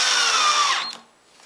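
A power drill drives a pocket hole screw into a workbench top while fitting a Kreg bench clamp template, whirring steadily at close range before winding down and stopping.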